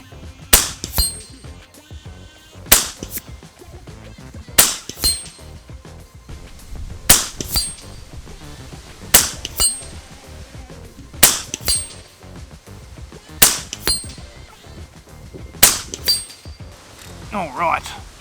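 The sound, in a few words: FX Crown air rifle shots, long range plinking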